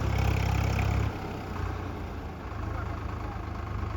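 A Swaraj tractor stuck in a muddy field runs its engine with a low, steady rumble that is heavier for the first second and then settles into a softer idle, close by.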